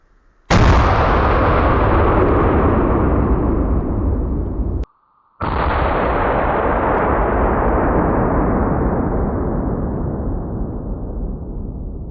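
Two very loud Barrett .50 caliber rifle shots fired prone outdoors, each a sharp blast with a long rolling echo that fades slowly, separated by a brief silence.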